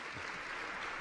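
Audience applause at a pitch competition event, a dense, steady wash of clapping filling the whole short moment without pause.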